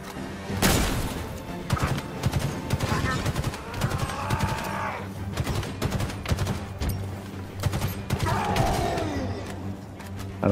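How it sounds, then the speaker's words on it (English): Gunfire sprays nonstop from a boss enemy in a video game, dense rapid bursts with heavy impacts and crashes, loud and close, while a voice talks over the shooting. "Just hearing him shoot nonstop."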